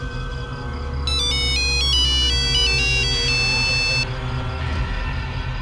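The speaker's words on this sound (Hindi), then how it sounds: "मैडम जी का फोन" A phone's electronic ringtone sounds for an incoming call during an indoor drama scene, a bright melodic trill of quick stepped tones playing loud for about three seconds over a low background hum.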